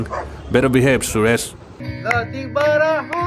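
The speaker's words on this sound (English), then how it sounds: "you could hear the dog barking" A dog barks and yips in quick bursts, moderately close, mixed in with someone talking over it, in Jarsing Pauwa, Nepal.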